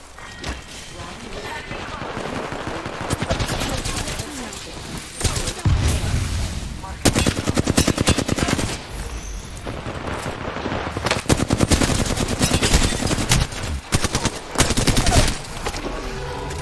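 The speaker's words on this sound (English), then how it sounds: "I'm under fire." Rapid automatic gunfire and bursts of shooting fill a match of the video game Apex Legends, with dense, loud volleys running almost continuously and heavier impacts in places, while a voice speaks now and then.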